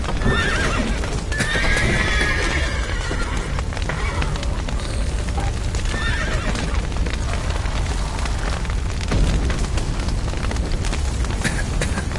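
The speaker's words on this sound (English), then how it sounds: "The horses!" Horses in the video game The Witcher 3 gallop with steady clip-clopping hooves and loud neighs over a dense rumbling din, continuous throughout.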